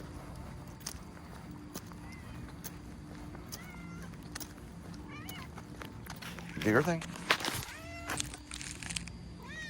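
A cat gives a few short meows partway through, faint and mixed under a person talking quietly over a steady background hum.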